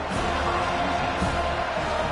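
A football stadium crowd murmurs and roars steadily at a distance, a dense continuous wash of many voices under a broadcast commentator's talk.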